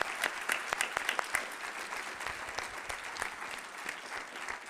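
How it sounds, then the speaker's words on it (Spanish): An audience applauds an author at a book presentation, a steady burst of clapping from a moderate crowd, fairly close and even throughout. "y un aplauso para él."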